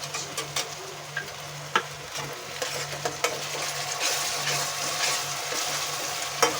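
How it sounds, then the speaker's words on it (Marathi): Ginger-garlic paste and onions frying together in a pan for a cauliflower-potato curry, giving a steady low sizzle broken by scattered clicks and scrapes of stirring, fairly quiet and close, with no one talking. "आलं लसूणची पेस्ट परतून घ्यायची चांगली."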